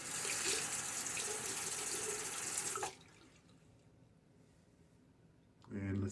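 Tap water runs steadily into a sink for a rinse during a wet shave with a Karve brass safety razor, a loud continuous gush for about three seconds, then a quieter lull before the flow resumes briefly at the end.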